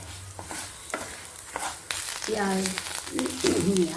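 Cumin seeds roast in a pan for agati leaf powder, giving a soft crackling sizzle with scraping stirring sounds that build louder in the second half.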